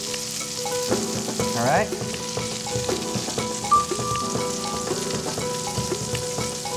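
Steak frying in a cast iron pan at home, a continuous close sizzle with light crackling, joined by a short spoken phrase and some background tones.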